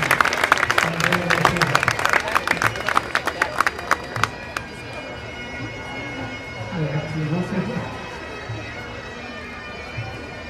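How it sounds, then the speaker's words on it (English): Audience applause greets a pipe band at a Highland Games, dense clapping strong at first, then thinning and fading into crowd murmur and scattered voices. "a nice round of applause and welcome to the House of Scotland Pipe Band"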